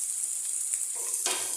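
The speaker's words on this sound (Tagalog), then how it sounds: "igisa-gisa lang po natin ang ating bawang at ang ating sibuyas" Garlic and onion sizzle in a hot pan for an adobong kangkong dish, a close, steady frying hiss with a brief stir near the end.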